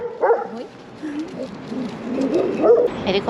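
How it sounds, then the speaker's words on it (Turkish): A dog yips and whimpers in short bursts, with more barking and whining layered close together and a bird calling faintly. "Boş boş havlıyorlar."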